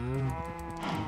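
A cow in a Minecraft-style survival server gives a single loud, close, drawn-out moo lasting about a second.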